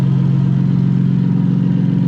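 Lexus SC300 idling with a homemade custom exhaust, a loud, steady, deep burbling drone held close and even throughout with no other sounds.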